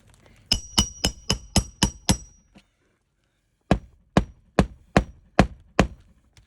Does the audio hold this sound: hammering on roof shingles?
yes